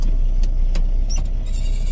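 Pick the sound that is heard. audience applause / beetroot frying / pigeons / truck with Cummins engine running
truck with Cummins engine running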